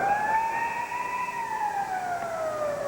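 End-of-period siren at a hockey arena during a 1996 playoff game, a sustained loud wailing tone that rises and slowly falls, filling the building on its own without voices over it.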